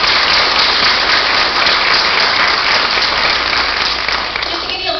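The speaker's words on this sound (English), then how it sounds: "Let's give her a big round of applause." An audience at a school board meeting gives a long, loud, steady round of applause for an outstanding secondary school mathematics teacher, dense clapping from many hands throughout.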